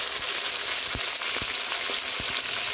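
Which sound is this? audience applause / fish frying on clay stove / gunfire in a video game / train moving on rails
fish frying on clay stove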